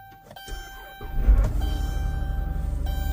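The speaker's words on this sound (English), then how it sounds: "I'm gonna try to start the vehicle now." A vehicle engine, jump-started from a booster pack connected to its battery, cranks and catches after a brief thunk, then settles into a steady, close idle rumble that continues to the end.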